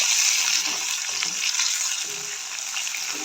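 Curry leaves fry in hot oil for a Jaffna-style tin fish curry, making a loud, steady, close sizzle and crackle that holds through the whole stretch with faint stirring scrapes and no voices.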